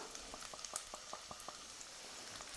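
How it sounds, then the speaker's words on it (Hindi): Tomato paste and onions sizzling and bubbling in a pan while cooking a cauliflower and green pea curry, a soft crackle with scattered pops and spits, close but quiet, with no talk. "फिर इस स्टेज पे हमने जो ये पेस्ट बना के रखा था टमाटर वाला, वो हम डाल देंगे सारा का सारा।"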